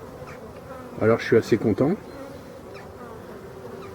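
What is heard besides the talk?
honeybees buzzing at a busy apiary hive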